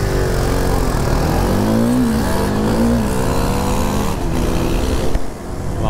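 A KTM RC 390 single-cylinder motorcycle engine revs loudly, a steady dense roar with a couple of rising throttle blips, close and dominant, briefly easing near the end.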